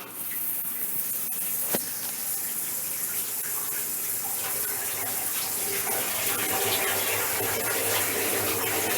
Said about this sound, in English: That's how the machine fills up.